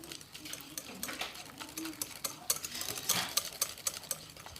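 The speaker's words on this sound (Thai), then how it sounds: "เราจะใช้ตะก้อมือตี ตีจนเนยอ่อนตัวนะคะ" A hand whisk beats butter in a bowl until softened, giving quick irregular scraping clicks of metal against the bowl, fairly faint and close, with no talking.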